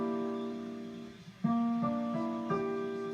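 Piano sounds a sustained ninth chord voicing, then adds a few shifting notes in soft successive attacks that ring close and clear for a few seconds.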